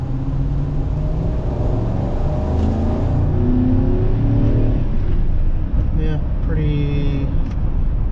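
A pickup truck engine with an aftermarket Black Widow 250 muffler revs and rumbles with a deep, throaty exhaust note, rising and falling in pitch, while someone talks over it.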